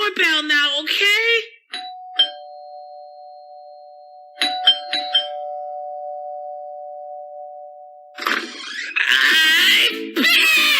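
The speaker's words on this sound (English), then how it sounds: "I'm gonna ring the doorbell now, okay?" A doorbell rings with a sustained electronic tone that holds for several seconds, set between bursts of animated speech and a few short dinging clinks.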